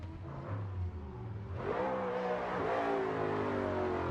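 Drift cars, an FD RX-7 and a BMW wagon, rev hard at a drift competition qualifying session. The engine note rises and holds loud and close with no commentary over it.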